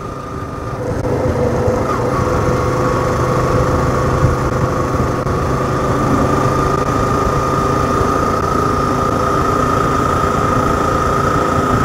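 A vehicle engine runs downhill on a hill road through bamboo forest in the Javadhu Hills, on the route from Jamunamarathur toward Vaniyambadi. The drone is loud and steady with a constant rumble and no voices.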